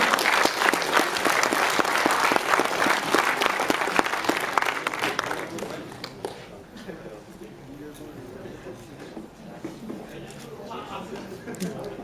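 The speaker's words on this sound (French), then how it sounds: "Allez, on l'applaudit." An audience at a Shootmania Joust gaming tournament final claps for the bronze medalist, dense applause that is loud at first, then thins into scattered claps while an announcer keeps talking over it.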